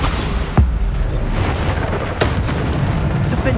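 Bombarda explosion spell in the video game Hogwarts Legacy, heavy booming blasts over a loud rumbling battle mix, with sharp bursts near the start and middle and sustained low roar between.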